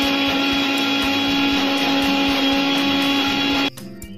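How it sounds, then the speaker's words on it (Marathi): A kitchen mixer grinder whirs loudly and steadily as it grinds chili powder, turmeric and kokum for a Goan fish curry, then the motor cuts off abruptly near the end. "आता ह्याला आपण मस्तपैकी ग्राइंड करूया."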